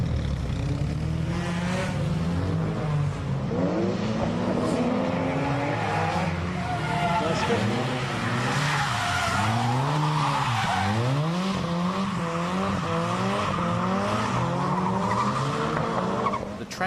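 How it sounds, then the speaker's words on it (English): Some seventy drift cars slide around a wet Kyushu circuit with continuous loud engine revving, rising and falling pitch sweeps, and tire skids overlapping throughout. "The track is still wet from last night's rain, but 70 drift cars soon sweep away the water."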